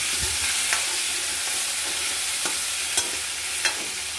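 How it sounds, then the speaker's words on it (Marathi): Eggs and potatoes frying in hot oil for an egg curry, a steady, dense sizzle throughout with a few soft stirring clicks and pops. "आता ही अंडी आणि हे बटाटा तेलात टाकून आपण फ्राय करून घेऊया."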